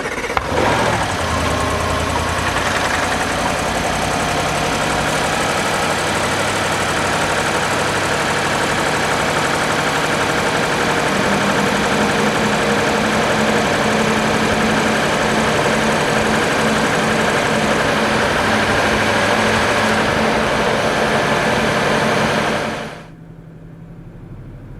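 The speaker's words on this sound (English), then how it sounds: "It sounds alright, other than a misfire though." Audi RS7 engine cranks to life and idles roughly with a misfire, a loud steady uneven rumble held for about twenty seconds before cutting off abruptly, no talking over it.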